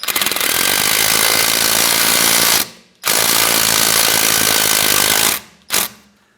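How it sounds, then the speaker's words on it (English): An impact gun hammers down the rear wheel hub bolts on a 2011-2016 Hyundai Elantra. Two long, loud, rattling bursts are followed by a short final blip, all close up with no voices. "Just grab our impact gun, just tighten them down, just snug them up."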